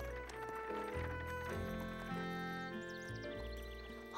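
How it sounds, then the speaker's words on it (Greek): Cartoon horse hooves clip-clopping while pulling riders, heard as light rhythmic hoofbeats under playful background music, quiet and even throughout. "Ο Μπόμπυρα σκέφτηκε ότι το άλογο ήταν πολύ δυνατό και μπορούσε να τους τραβάει όλους."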